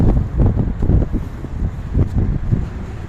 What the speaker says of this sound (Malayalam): അപ്പോൾ കാറ്റിൻ്റെ ശക്തിയാണ്, നോക്കിയോ